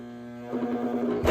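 A serger sewing machine trims the edge of a fabric bath mitt while stitching a straight line and a zigzag. A steady motor whir starts up partway through and grows louder near the end, with no talking.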